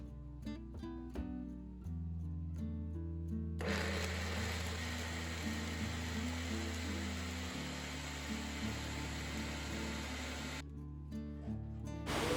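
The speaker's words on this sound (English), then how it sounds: "Then I'm going to blend it together to make my akara paste or beans cake" An electric blender grinds soaked beans and peppers into akara bean-cake paste, its motor whirring steadily close up, rising to a harsher, louder churn midway before settling back to a lower hum.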